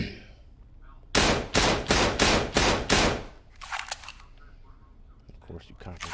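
Six rapid 1911 pistol shots in a video game fire as a tight, evenly spaced burst of loud, sharp cracks, followed by softer clicks and rustling handling sounds.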